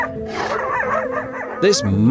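Dogs bark and growl at a seal in a rough, close burst of vocalizing, with a sharp louder bark near the end.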